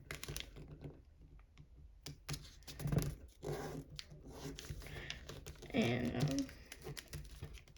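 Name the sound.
paper being folded for an origami fighter jet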